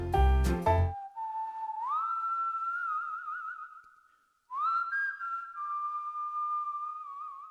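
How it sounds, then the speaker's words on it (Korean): A bright, cheerful melody whistled clearly and alone at the opening of a film, with a short pause midway, after a brief burst of other sound at the very start. "뭔가 유쾌한 듯한 휘파람 소리로 영화가 시작합니다"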